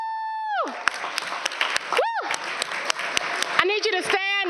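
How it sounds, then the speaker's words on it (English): An audience at a school district board of trustees meeting applauds teacher cadets with steady, dense clapping and a few cheers, while whistling tones sweep over the top. "let's give them a round of applause."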